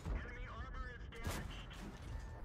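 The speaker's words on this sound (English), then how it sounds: "the second shot into the WZ goes into the dirt there" A single tank cannon shot in World of Tanks, fired at an enemy WZ tank: one sharp, fairly faint boom midway through, with someone talking over the battle noise.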